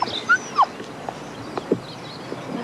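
A dog whimpers faintly, letting out a couple of short high whines against a quiet background, with small rustles and soft thumps in between.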